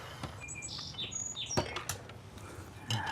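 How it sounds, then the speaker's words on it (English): Birds sing outdoors in a backyard, bright chirps and quick whistled phrases coming close and clear over a low background, with a soft knock or two mixed in. "My little bird is serenading me."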